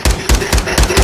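Mid-caliber gunfire in Call of Duty, four or five loud close shots fired in quick, evenly spaced succession with sharp percussive cracks.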